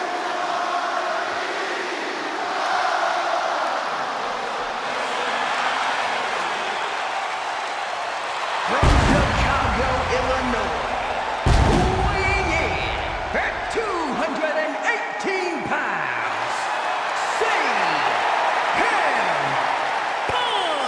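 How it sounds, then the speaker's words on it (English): A hometown arena crowd gives CM Punk, the Second City Saint, a sustained roaring ovation in the WWE 2K26 wrestling game, a dense wash of cheers throughout with a couple of heavy thuds midway and an announcer-like voice over it. "Just listen to this ovation for the Second City Saint"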